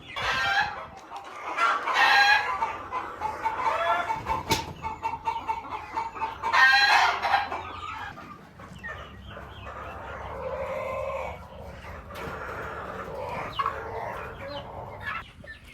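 Chickens at a poultry farm cluck and squawk in loud, close bursts, with a rooster-like crowing call rising in the middle and busy fowl chatter continuing to the end.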